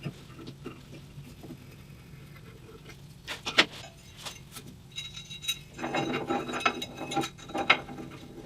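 Hand tapping threads into cast iron with a tap and cutting fluid: close, intermittent metallic ratcheting clicks and scraping creaks, sparse at first, then denser and louder toward the end.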